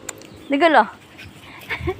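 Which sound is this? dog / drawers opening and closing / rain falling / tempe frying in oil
dog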